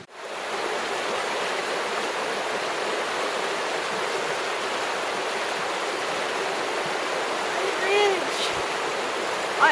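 A river flows near a harbor at Tenakee Springs, Alaska, as a steady, loud rush of water runs without a break. A voice and a short tonal sound come in briefly near the end.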